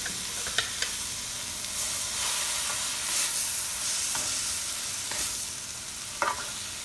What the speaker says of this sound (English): Now we add our rice. And we mix it again.